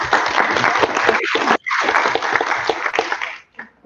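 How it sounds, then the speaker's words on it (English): Members of a city education committee meeting in New Haven applaud visiting guests from Brownsville with a dense burst of clapping that breaks off briefly, resumes, then fades out near the end. "a round of applause for our friends from Brownsville"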